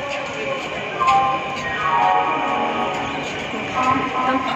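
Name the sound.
metro train arriving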